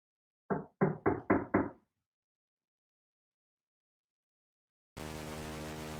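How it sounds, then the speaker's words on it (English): Five quick, evenly spaced knocks on a door by police officers, sharp and close, followed by silence and then a burst of steady static. "multiple police officers knocked on his door to see if Lee was in there"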